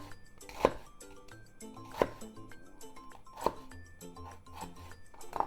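A knife cuts slits into chicken, giving four sharp, evenly spaced taps of the blade on the cutting board, with faint soft clinks between them in a quiet kitchen.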